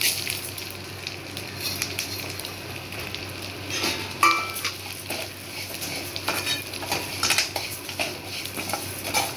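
Metal utensil scraping and clinking in a pan as dry rice flakes are stirred and roasted in ghee, with a soft sizzle underneath, close and continuous without speech.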